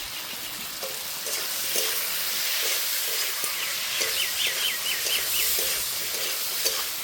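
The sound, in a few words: potato and eggplant frying and being stirred with Kashmiri chili powder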